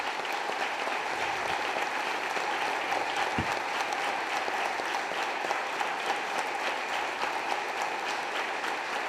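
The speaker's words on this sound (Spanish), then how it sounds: "dan el aplauso a su santo patrono" A church congregation applauds its patron saint during Mass, a steady, dense wash of clapping from a large crowd that continues evenly throughout.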